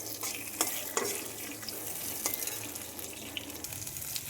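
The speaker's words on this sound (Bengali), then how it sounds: "ভালোভাবে মিশিয়ে নিচ্ছি।" Vegetables with bay leaf stirred in hot oil in a pan, a continuous bright sizzle broken by repeated scraping strokes of the spoon, close and alone without talk.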